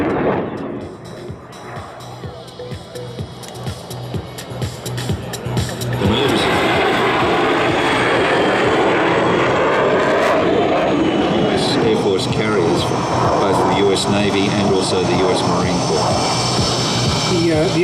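Aircraft engine droning loudly at an air show in the Illawarra, rising in strength and holding a steady roar under an ongoing commentary voice.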